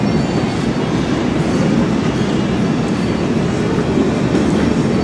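A Moscow Metro train runs at speed in a steady loud rumble, with clattering wheels and rail noise heard from inside the carriage and no talking.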